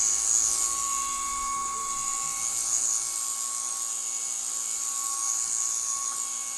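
A flying orb ball toy spins in flight with a steady, high-pitched whirring buzz like small propellers, close and continuous throughout, with no talk.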